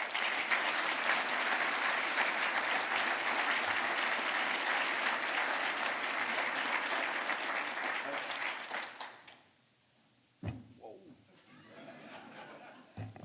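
A conference keynote audience claps loudly and steadily for several seconds as a speaker is welcomed onstage, the dense applause fading out, followed by a few sparse sounds and light chuckles.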